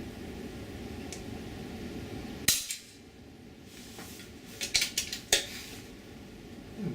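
An FX Royale .22 air rifle fires outdoors in cold weather: one sharp crack, then a cluster of quieter snaps and clicks, over a steady background hiss.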